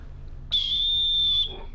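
A single shrill whistle blast, about one second long, sharp and close, in an otherwise quiet moment.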